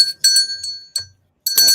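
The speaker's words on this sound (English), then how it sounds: "hit that notification bell" Notification bell sound effect on a sports talk show: several bright, clear chime strikes ring out in quick bursts, with a short sustained ring, loud and up close, with no talk over it.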